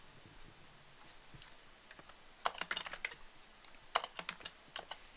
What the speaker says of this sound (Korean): 왼쪽에서 또는 오른쪽에서 타이핑하고